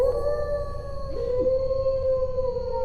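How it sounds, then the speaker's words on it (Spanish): Wargs, wolf-like beasts, howl in an audiobook sound effect: a long, sustained, wavering howl with layered overlapping voices, loud and close, with a second howl briefly sliding in beneath. "No se veían, pero aullaban, cercándolo, tejiendo una soga invisible a su alrededor."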